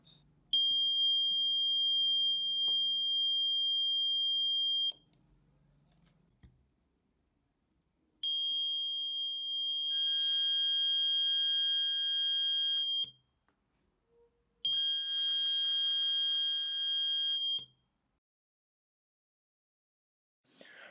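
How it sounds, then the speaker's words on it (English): Electronic buzzer wired as the load of relay driver circuits, sounding three loud steady shrill tones of about four, five and three seconds, separated by silent gaps, with no talk. "So I used a buzzer as a load and tested both circuits."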